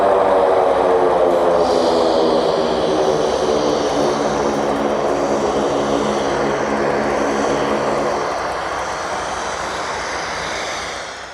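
A propeller float plane roars loudly overhead while landing at Brooks Camp in Katmai, Alaska, a sustained droning engine that slowly fades and lowers toward the end.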